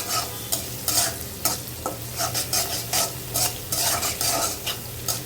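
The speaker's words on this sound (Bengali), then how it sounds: "তো একটু তেলের ভিতরে 5 ফোড়ন দিয়ে, গরম মশলা দিয়ে, পেঁয়াজ আর লবণ দিয়ে ভেজে নিচ্ছি।" Onions frying in oil with five-spice, garam masala and salt, a steady sizzle broken by repeated bursts of stirring and scraping in the pan, close and with no talk.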